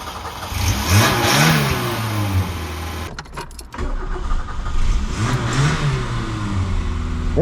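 A classic Peugeot 205 with glow plugs starts after a brief cranking pause and settles into a close, loud idle with several rising revs, a mid-pitched engine heard alone.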